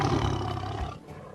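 A person imitates a tiger's roar during a children's animal-calling game, a loud, rough, growling roar held for over a second up close with no other sound.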